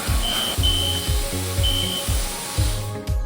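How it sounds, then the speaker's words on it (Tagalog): A car wash timer beeps in short, thin bursts over the continuous hiss of spraying water and the low rumble of the wash bay's machinery, with no talking. "Tumunog na naman yung timer."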